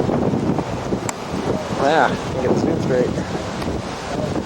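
Strong wind buffets the microphone during a tornado storm chase near Park City off I-135, a loud continuous rumbling roar, while someone speaks briefly over it.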